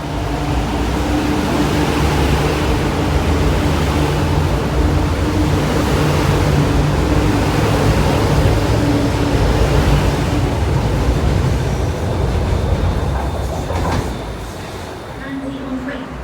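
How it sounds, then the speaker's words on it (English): An MTR C-train built by CRRC Qingdao Sifang at Kowloon Bay Station gives a loud, steady rumbling roar with a faint whine, then eases off near the end. "Alright, finally a C train this time."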